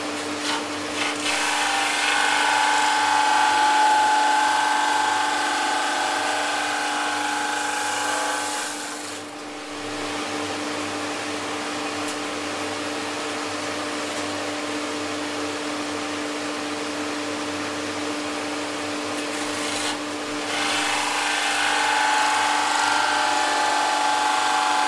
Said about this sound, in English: I'm just going to close the lid again, turn my dust extractor back on, and keep feeding it through.